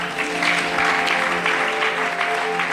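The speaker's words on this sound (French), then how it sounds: "Alors on acclame le Seigneur." Congregation at a church service applauding steadily, a dense wash of many hands clapping at once with a faint sustained tone beneath, continuous and fairly loud throughout.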